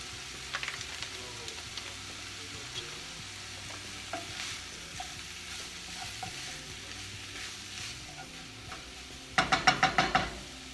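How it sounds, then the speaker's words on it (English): Pasta and kale being tossed in a hot pan, a steady low sizzle with scattered scraping stirs, ending in a quick run of loud clattering strokes close up. "let's mix all that up"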